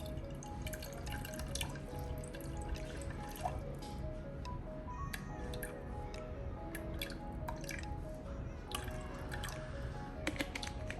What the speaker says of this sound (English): So I'm going to use 250 grams of water